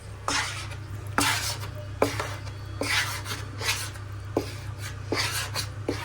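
A spoon stirs and scrapes flour through a pan over low heat while making khoya and jaggery pinni, with repeated rasping strokes every second or so and a steady low hum behind them.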